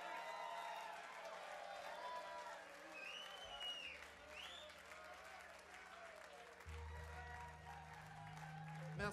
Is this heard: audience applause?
yes